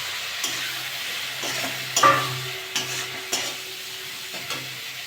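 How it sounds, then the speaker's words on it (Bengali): Fish curry masala with chopped tomatoes fries and is stirred in a pan, giving a steady sizzle broken by a few sharp scrapes and clacks from the spoon, close up and without any voices. "মশলাটা কষে নেবো"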